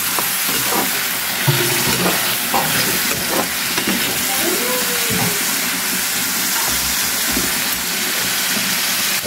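Chicken liver adobo fries and gets stirred in a pan, with steady loud sizzling throughout and occasional scraping and clinking of the utensil against the pan.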